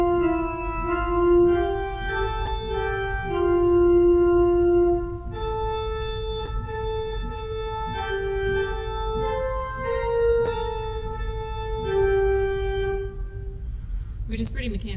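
A hymn in 3/4 time is played strictly and mechanically on a keyboard instrument, likely organ, with sustained chords changing in an even, unvaried rhythm throughout at a steady moderate level.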